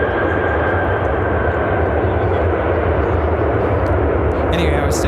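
An American Airlines Boeing 737-800 in TWA retro livery lands at Chicago O'Hare, its engines a loud, steady roar that fills the whole stretch, with voices talking over it.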